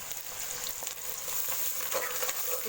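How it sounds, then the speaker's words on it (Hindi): Chopped onions frying in a pan with browned garlic, a steady bright sizzle with a few soft crackles and stirring touches, close and continuous with no talking. "अब इसमें हम प्याज शामिल करेंगे। ये जो 2 कप हमने कटे हुए प्याज थे ये शामिल करेंगे।"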